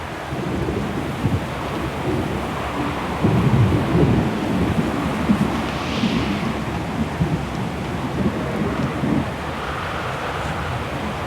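Heavy rain and rolling thunder from a storm in the video game Syberia: The World Before, a steady dense downpour with low rumbles swelling around the middle, wind in the background, no voices.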